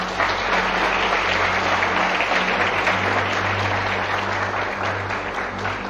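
Church congregation applauding during a sermon, a loud continuous roar of many hands clapping together, with a low steady hum sitting underneath the whole time.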